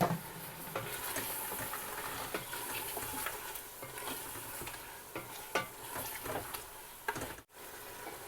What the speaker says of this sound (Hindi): अब इसमें गोश्त डाल के इसको थोड़ी देर के लिए भूनेंगे।